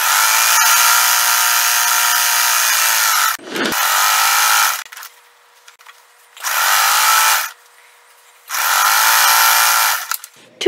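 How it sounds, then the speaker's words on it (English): Sewing machine stitching a quarter-inch seam down a quilt-as-you-go tote bag strap, running in several loud, steady bursts of whirring mechanical buzz separated by short pauses. "I'm just going to sew 1/4 inch all the way down"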